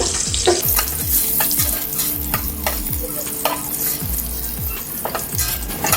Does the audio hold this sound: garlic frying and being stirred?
yes